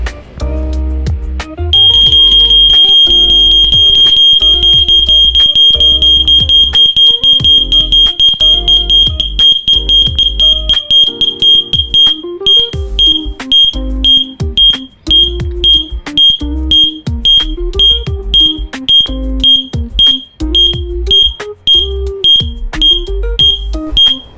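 A small homemade earthquake alarm gives off a loud, piercing electronic tone like a smoke alarm, first held steady and then breaking into rapid repeated beeps, with rattling handling noise underneath.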